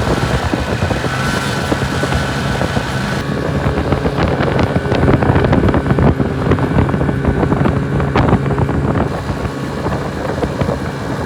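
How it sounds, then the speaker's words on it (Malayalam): A snowmobile climbs a steep snowy slope at Tsaghkadzor, Armenia, its engine a loud, continuous roar mixed with heavy wind buffeting on the microphone throughout. "ആദ്യമായി സ്നോ കാണുന്നു, അതിലൂടെ സ്നോമൊബൈൽ ഓടിക്കുന്നു."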